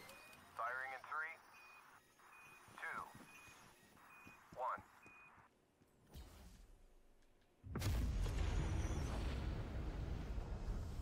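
Targeted weapon strike in a video game: after synthetic voice and beeping tones, a deep rumbling launch builds, then a loud, roaring explosion hits hard and sustains through the end of the clip.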